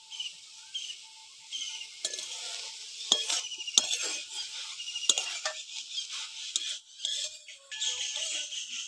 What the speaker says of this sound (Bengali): দিয়ে চিংড়ি মাছের সঙ্গে এগুলোও ভালো করে ভেজে নেব।